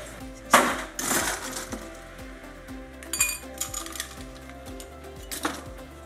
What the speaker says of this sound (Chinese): 然后再来就是加上最重要的冰块。